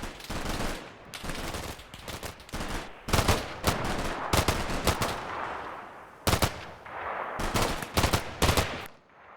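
M240 machine guns fire in sustained, loud bursts of rapid automatic fire in the video game Combat Mission Shock Force 2, with short gaps between the volleys.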